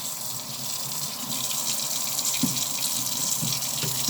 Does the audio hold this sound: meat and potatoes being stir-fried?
no